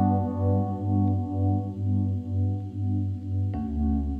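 Two sustained keyboard chords alternate in a slow repeating pattern for a beat, warm and steady with soft swells, played alone without voices.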